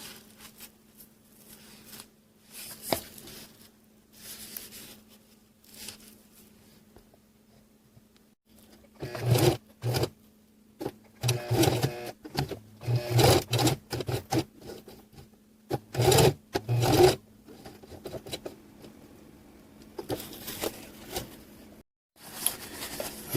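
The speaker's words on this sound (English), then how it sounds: "line those two pieces up and sew that in place" A sewing machine stitches two lined-up fabric pieces of a drawstring pouch with a lid, running in short irregular bursts with pauses between, close and moderately loud, with no talking.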